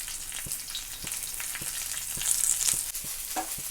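Okra pieces laid on garlic frying in oil on a tava, a steady bright sizzle throughout with faint periodic taps, close and moderately loud, no voice.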